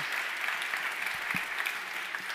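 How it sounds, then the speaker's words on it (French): An audience at a retail conference evening applauds, a dense, even wash of clapping from many hands, fairly faint and distant, continuous with no talking. "on peut l'applaudir effectivement"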